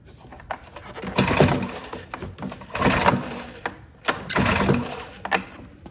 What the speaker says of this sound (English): we're gonna pull 3 times until the engine starts to fire